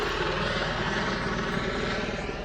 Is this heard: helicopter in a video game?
yes